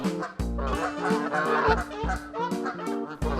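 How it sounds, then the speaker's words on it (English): Several geese crossing a country road honk and cackle repeatedly at close range, their calls overlapping in a noisy, uneven chorus. "These geese own this country road as they take their time to waddle across."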